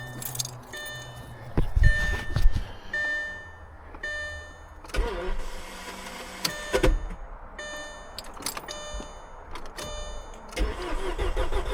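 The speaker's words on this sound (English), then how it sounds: "I heard the pump come on." A 2008 Audi A4 2.0T FSI fuel pump primes after its fuse is refitted during camshaft work, giving a brief electric whir among clicks, relay ticks and mechanical clatter in a workshop, with no talk.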